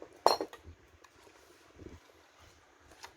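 Crab mixed with chili powder in a bowl, one sharp close clink of a utensil against the dish followed by quieter scraping and stirring noises.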